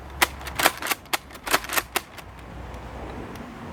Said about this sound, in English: Now the Pyragon, firing from a stick mag.